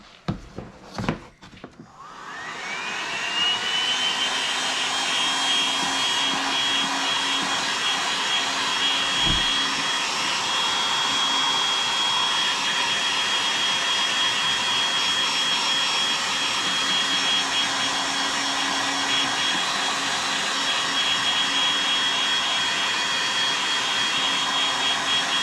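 Heat gun blowing on a 2018 Dodge Charger Hellcat bumper during repair, starting after a few clicks and handling noises, then a loud continuous close whine with a faint high tone that holds steady for over twenty seconds.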